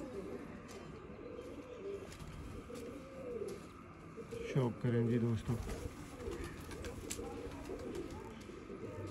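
Pigeons newly delivered in boxes coo softly at close range, a few rolling throaty calls in a burst midway over rustling and scraping, with someone speaking briefly.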